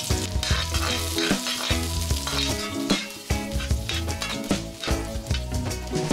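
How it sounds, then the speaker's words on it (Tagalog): Sliced onion sautés in a frying pan with a steady, close crackling sizzle and occasional stirring scrapes, while a tune appears to play over it throughout. "sa isang kawali, mag-isa tayo ng sibuyas"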